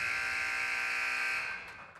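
A loud, steady electronic buzzer sounds for about a second and a half at the end of a high school JV boys basketball game in a gym, then quickly fades out.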